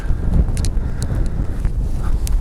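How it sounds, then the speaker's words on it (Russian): Cold wind roars steadily against the microphone in a low, buffeting rumble, with a few faint clicks and taps scattered through it. "Холодно. Ледяной ветер."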